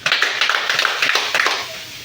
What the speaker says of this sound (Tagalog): bigyan natin ng 5 palakpak si Lucha at si Lizel